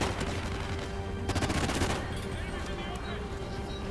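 Rapid SMG fire from Call of Duty: Ghosts crackles in dense, sustained bursts with a sharper volley near the middle, loud and close over steady game noise.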